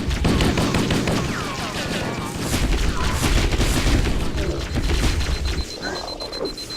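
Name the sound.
gunfire in a Flood battle, Halo: Combat Evolved video game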